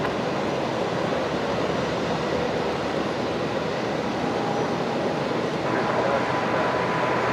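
At Brisbane Airport at night, an airliner is pushed back and towed, a broad steady engine and tug rumble with a faint tonal whine, distant and continuous.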